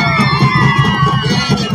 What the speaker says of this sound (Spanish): Es un aplauso, niños,